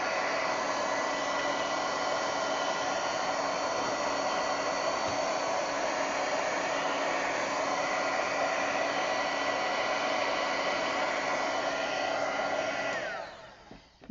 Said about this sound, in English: And then I'm going to take my heat tool and